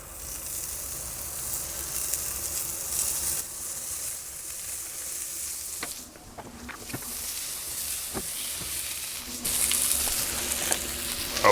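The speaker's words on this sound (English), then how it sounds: "We'll get the onions started and get the smash burgers going." Onions and smash burgers sizzle steadily on a Blackstone griddle, a continuous bright hiss with a few faint scraping clicks, a brief lull, then louder frying.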